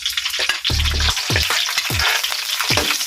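Onions sizzle steadily in a hot pan for Ilocano pinakbet, a loud continuous frying crackle broken by several short scraping stirs of a utensil.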